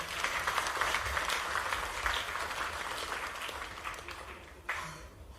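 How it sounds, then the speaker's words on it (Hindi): Audience applause at an investor gathering with CM Mohan Yadav in Delhi: a crowd clapping steadily, then fading, with a sharp louder burst near the end. "शुभ शुभ के लिए ताली बजा दें"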